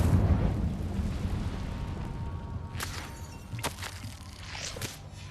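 Incendio fire spell cast in Hogwarts Legacy, a couple of short fiery whooshes and bursts over a low rumbling game ambience, fairly faint overall.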